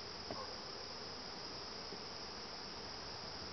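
During a bee vacuum hive removal, bees buzz in a constant, even drone with a faint tap or two near the start.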